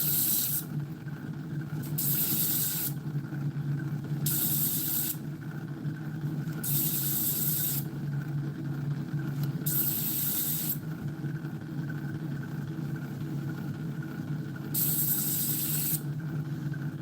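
Opal gemstone being cut on a saw, a steady grinding hiss running continuously with a low motor hum, while bursts of brighter high spray-like rasp come and go at intervals of a few seconds.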